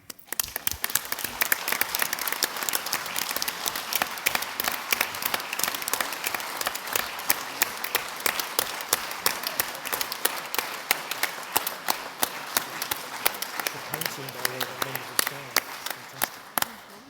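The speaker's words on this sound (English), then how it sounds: "Very kind of you to clap so hard for me." Sustained audience applause in a hall at a cricket club's annual general meeting, dense steady clapping from many hands continuing for over fifteen seconds before a voice begins to speak.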